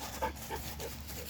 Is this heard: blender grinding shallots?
no